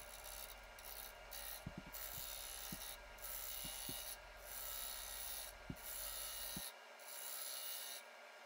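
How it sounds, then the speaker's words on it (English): A Carter and Son bowl gouge cuts a wooden bowl spinning on a lathe, making a steady rasping scrape that comes and goes in rhythmic pulses, with sharp ticks, then the lathe hum stops. "using the bowl gouge to clean the edges up a little bit"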